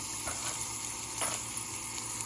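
Urad dal and chana dal frying in hot oil for rostad upma, a steady close sizzle and crackle with a few brief louder pops, no voices.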